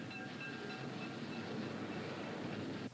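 A train rumbles steadily along the tracks with a continuous rolling roar and faint metallic ringing, cutting off abruptly near the end.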